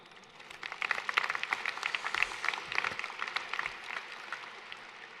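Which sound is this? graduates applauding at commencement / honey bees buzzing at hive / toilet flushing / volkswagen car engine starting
graduates applauding at commencement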